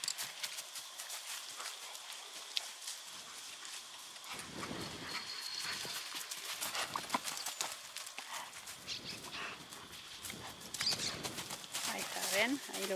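Steady hoofbeats of a chestnut horse walking on a hard surface, a regular clip-clop rhythm over outdoor background noise.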